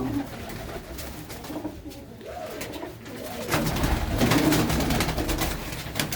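Pigeons from Sadhu Aulakh's loft cooing in soft repeated rolling calls, close by, over a steady background murmur that grows a little louder partway through.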